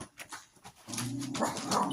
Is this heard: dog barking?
yes